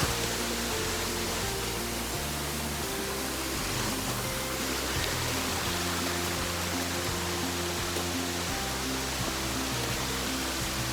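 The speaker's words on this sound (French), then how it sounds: "Et là ça dégueule de l'eau de partout." Water gushes and streams all around in a mountain setting, a dense, loud, unbroken roar that fills the whole stretch, close and steady with no voices.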